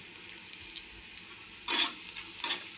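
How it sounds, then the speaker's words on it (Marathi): Curry leaves, cumin and mustard seeds dropped into hot oil, giving a quiet background crackle before two sharp bursts of loud sizzling and spattering near the pan. "आता यामध्ये मी कढीपत्ता जिरे मोहरी टाकणार आहे"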